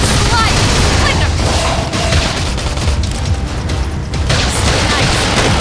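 Sustained gunfire from squad cover fire in Xenoblade Chronicles X Definitive Edition, a loud, continuous battle din of shots and impacts with game voices calling out over it.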